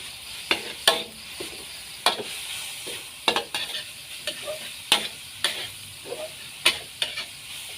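Dried chilies are stir-roasted in a hot pan, a spatula scraping and knocking the metal in a steady run of sharp strokes over a dry sizzle, close and loud with no talk.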